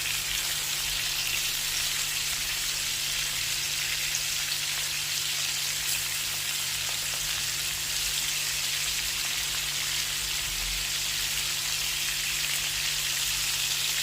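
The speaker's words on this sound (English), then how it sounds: "I'm going to flip it over and fry" Chicken wings frying in hot oil after being turned, a steady dense sizzle and crackle running evenly throughout, close and continuous with no talking.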